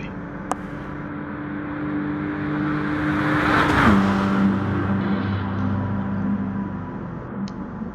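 A Peugeot race car engine in a sim racing game drones and builds as the car closes in, peaking loud around the middle as it passes, then fading slightly while another engine hums steadily underneath.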